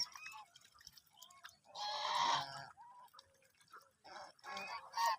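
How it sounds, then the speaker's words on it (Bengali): Ducks quacking loudly in bursts, a noisy cluster of calls in the middle and more honking calls near the end, with short pauses between. "হাঁসগুলো অনেক চিল্লাবাল্লা করে"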